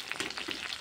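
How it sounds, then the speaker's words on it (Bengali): Pangas fish pieces frying in hot oil in a pan, a dense continuous sizzle with crackling pops, close and fairly loud. "এভাবে আমি একটু কড়া করে ভেজে তুলে নেবো মাছগুলোকে"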